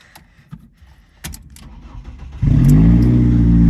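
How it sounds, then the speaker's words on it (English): A freshly fitted engine in a Baja Bug cranks and catches at about 2.4 s, settling into a loud, steady running rumble after a few seconds of quiet handling noises and clicks. "But it does run, so that's an extra motor for us."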